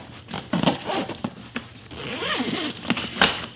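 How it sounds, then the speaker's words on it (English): A bag packed with books being zipped shut, a close, scratchy zipper rasp in several short pulls with small handling knocks. "all you have to do is just zip it up"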